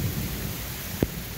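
Steady rain falls outdoors under trees, a dense, even hiss of drops throughout, with one brief louder knock partway through.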